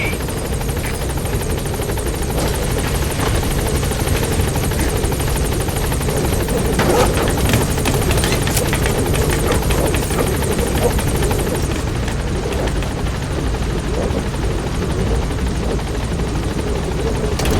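The Pequod helicopter hovers at the landing zone in Metal Gear Solid V, its rotor and engine roaring loud and steady throughout, with game radio voices talking over it.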